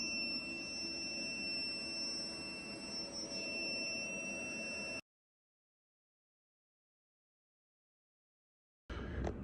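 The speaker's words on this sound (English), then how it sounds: "Sorry about the buzzer" Buzzer built into repeater equipment, a steady high-pitched electronic tone over a running hum for about five seconds, then sudden silence before noise briefly returns at the end.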